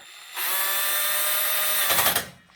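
A power drill driving a bolt tight on a home lab server rack runs as one steady, loud whine for about a second and a half, then ends in a rougher burst as the bolt seats and the motor stops. No one speaks.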